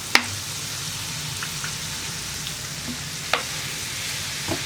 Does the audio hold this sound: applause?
no